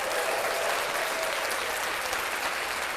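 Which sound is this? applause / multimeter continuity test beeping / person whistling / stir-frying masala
applause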